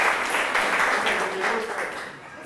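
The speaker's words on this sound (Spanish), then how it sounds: "denle un aplauso" A church or Bible-class audience gives a round of applause, dense continuous clapping that holds steady and loud before easing slightly near the end.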